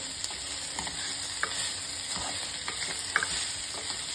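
A green chilli frying in a pan for spring onion sambar, giving a continuous sizzle with occasional soft stirring clicks, close and steady with no voices.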